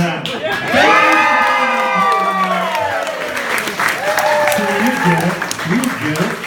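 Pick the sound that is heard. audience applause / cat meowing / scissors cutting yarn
audience applause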